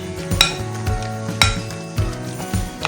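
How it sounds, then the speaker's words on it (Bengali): A spoon beats batter mixed with baking powder in a bowl, giving a run of rhythmic clinks and scraping knocks about twice a second, close and fairly loud, with no speech. "ভালো করে মেশাতে হবে, কিন্তু বেকিং পাউডারটা ভালো করে মেশাতে হবে।"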